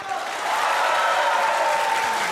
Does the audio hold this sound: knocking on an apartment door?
no